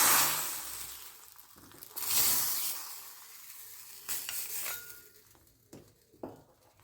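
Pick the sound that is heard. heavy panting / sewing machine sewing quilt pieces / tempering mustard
tempering mustard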